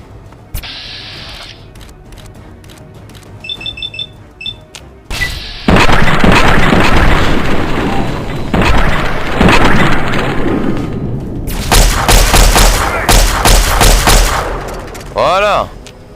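Loud bursts of video game gunfire and booming explosions from Fallout 3, with sharp shots early, then a dense sustained barrage of blasts and rumbling, interleaved with game sound effects and brief voice.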